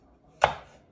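A single sharp knife chop on a cutting board through red and green chili peppers, close and crisp, with a short decay and no talking.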